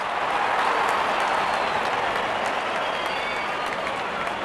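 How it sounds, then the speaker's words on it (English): A cricket stadium crowd at an IPL match between Rajasthan Royals and Sunrisers Hyderabad applauds and cheers a six, with loud, dense clapping and crowd noise sustained throughout. "Crowd on their feet to cheer the moment."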